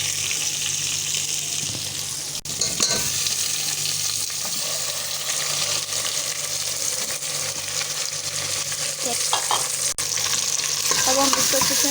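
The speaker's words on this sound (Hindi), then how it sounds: "अब हम इसको अच्छे से मिक्स कर देंगे, इसको फ्राई करेंगे अच्छे से फ्राई करेंगे।" Chicken with ginger garlic paste stir-fries in a pot for degi-style chicken korma, a continuous loud sizzle with repeated stirring scrapes and a faint watery hiss.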